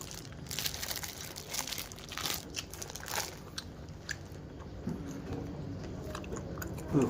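Close, steady chewing and biting of spicy minced pork salad (larb moo) with sticky rice, crunchy and wet over several seconds, with no talk.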